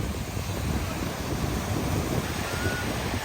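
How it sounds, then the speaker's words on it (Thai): Sea waves and wind at Nam Sai beach in Sattahip, Chonburi, Thailand, forming a loud, continuous broadband rush of surf and gusting air with no break and no talking. "บรรยากาศทะเลค่ะ"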